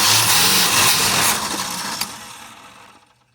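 A Ford truck engine idles close by, a steady broadband rumble that fades gradually toward quiet by the end, with a faint click partway through.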